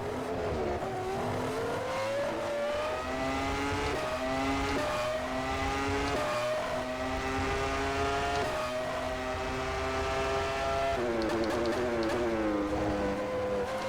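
A WCP F1 1999 mod car in the rFactor 2 racing sim drones loudly and steadily, its engine pitch climbing and dropping through gear changes without letup and with no voices.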